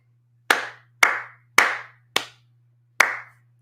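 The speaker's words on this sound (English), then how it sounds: "I wish that every time I clapped, it was the same sound." Five sharp hand claps ring out alone at uneven intervals, each a crisp, loud smack with a short decaying tail, over a faint steady low hum.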